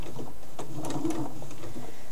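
A sewing machine runs in a short steady burst, stitching the seam of a cloth doll, close up with a mechanical whirring hum and no talk.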